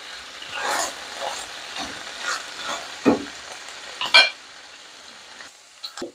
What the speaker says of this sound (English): the meat is going to be cooking in her own grease, as you can see.